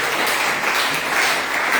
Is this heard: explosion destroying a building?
no